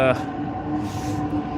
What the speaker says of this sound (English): Best train in Moscow, in my opinion.